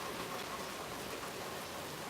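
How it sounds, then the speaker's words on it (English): Steady rain patters down outdoors, a dense, even hiss of drops with no voices. "Yep, it's raining here."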